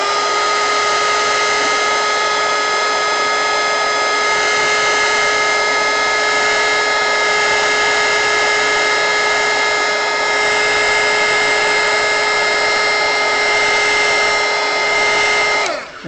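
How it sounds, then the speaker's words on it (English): A hot air gun runs steadily for about sixteen seconds, a loud continuous whirring blow with a constant high whine, cutting off abruptly at the end; it is warming paper for crayon drawing. "I'm going to warm up the paper with this hot air gun"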